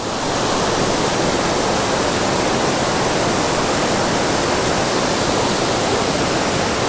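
Lady Barron Falls in Mt Field National Park runs full after rain, a dense, unbroken roar of cascading water that holds loud and steady throughout, with no other sounds over it.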